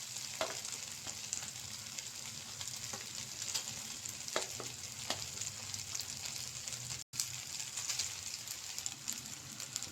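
Egg rice stirred in a frying pan, a faint ongoing sizzle broken by soft scraping strokes of a spatula, quiet and with no voices.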